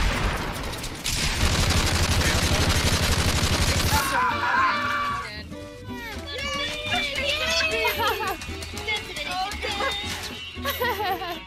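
Gunfire in the video game Fortnite: rapid bursts of shots crackle for several seconds, then scattered shots and game effects continue while a player talks and shouts over them.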